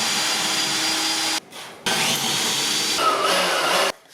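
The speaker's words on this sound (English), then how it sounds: "then I need to drill holes, so drill here" Power drill boring holes through a pipe while building a fire-twirling staff: loud, steady whirring bursts with a brief stop in the middle and another cut near the end.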